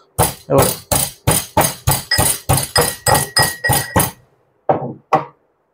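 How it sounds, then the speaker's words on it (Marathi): Unpeeled garlic being pounded in a mortar and pestle: about a dozen sharp, evenly spaced thuds in a steady rhythm, close and loud, then a pause and two final blows. "हा आपल्याला याच्यामध्ये खलबत्त्यात टाकायचा आहे आणि आपण तो कुटून कुटून घेणार आहोत"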